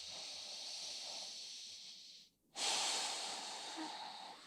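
Deep, slow breathing during a yoga flow: a long hissing breath, a brief pause, then another strong exhale, close and fairly quiet with no talking.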